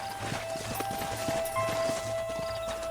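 In the Red Dead Redemption video game, horses clop steadily on hard ground as a group of riders dismounts, with a faint whinny over a thin background drone.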